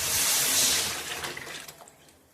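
Tamarind water is poured into a simmering stingray fish curry, giving a loud, splashy gush of liquid that tapers off over about two seconds.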